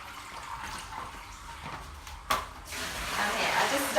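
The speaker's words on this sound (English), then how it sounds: "So I'll literally just fill it up straight to the bucket from the tap." Tap water runs into a bucket for a pet enclosure, starting as a quiet trickle and then becoming a steady, louder hiss of rushing water after a brief knock.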